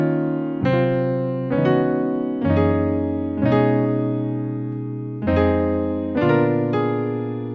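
Solo piano plays the third section of a song intro, a run of seven full sustained chords in a moderate, even rhythm, each ringing into the next, close and clear without any talking.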